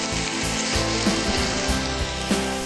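Shrimp hiss and crackle as they go into a hot pan of stir-frying vegetables for shrimp yaki-soba, a loud, steady sizzle broken by a few bumps and knocks, close by, with no talking.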